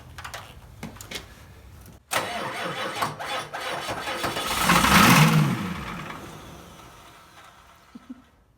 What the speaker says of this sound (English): Starter's not spinning fast enough.